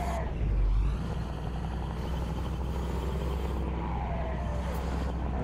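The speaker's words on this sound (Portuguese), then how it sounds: "Vamos acelerar, ver quanto que esse caminhão pega aqui." A Brazilian truck in the Rotas do Brasil Simulator game gives a steady low engine drone with a faint rising whine as it accelerates, and a brief heavy thump near the start.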